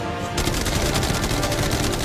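Loud, continuous rapid gunfire in a video game battle aimed at a yacht, a dense unbroken stream of shots after a brief quieter start.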